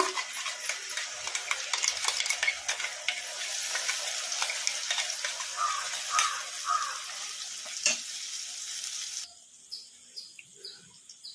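Cashew masala paste sizzles and fries in hot tempering in a pan for kaju masala rice, a spoon scraping and stirring, metallic clinks throughout; the sizzle drops off near the end.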